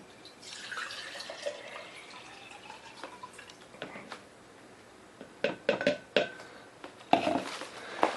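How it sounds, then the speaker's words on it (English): Two cups of water pour steadily into a jar with trickling and dripping, followed by several sharp clinks and knocks of glass and utensils near the end. "So let me pour this 2 cups in here."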